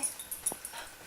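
An anxious fox terrier lets out a single faint, short yip or bark from a distance, with quiet room background before and after and no talking.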